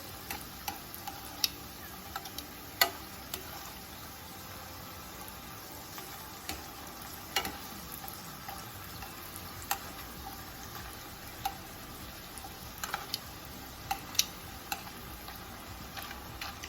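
Keto tortillas frying in avocado oil give off a soft, steady sizzle with scattered light ticks and pops, fairly quiet and close, with no voices.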